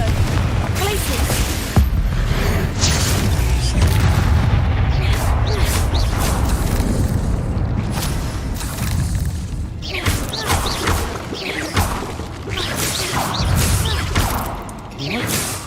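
Confringo blast spells go off in a Harry Potter video game as a run of punchy booms and thuds with whooshing bursts, loud and close, layered over dense game ambience.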